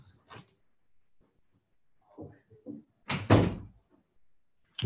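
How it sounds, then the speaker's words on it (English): Someone closes an indoor door, giving one firm thud preceded by quiet shuffling and handling sounds. "Let me close the door."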